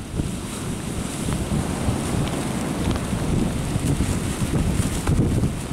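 Wind and sea waves surge around an overloaded barge out at sea, a steady broadband roar of gusting wind and surf buffeting the microphone, continuous and loud with no voices.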